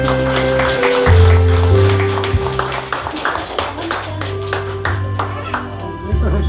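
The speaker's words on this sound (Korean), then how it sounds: "격려의 박수 한번 부탁드릴게요." Guests at a Korean 70th birthday banquet clap together in a lively, sustained round of applause over loud background music with a deep bass line.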